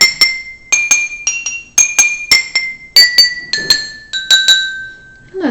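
Glass bottles struck with a plastic spoon in a bright, ringing sequence, each pitch struck a couple of times and stepping gradually lower, close and clear with no voices.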